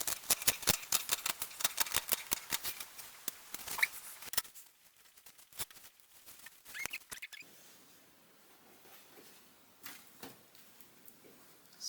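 Scissors cut through dress fabric to widen a neckline, a quick run of crisp snipping clicks followed by a pause and then scattered, softer snips, close and clear with no talking.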